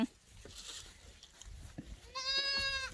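Goats bleat at a farm, with one clear, wavering bleat near the end standing out over faint background noise and a few knocks.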